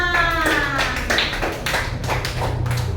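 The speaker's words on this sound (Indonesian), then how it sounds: "Kita beri aplaus untuk kita semua." A classroom group claps for itself, giving a burst of quick, close hand claps and taps that carries on steadily for a few seconds over faint background voices.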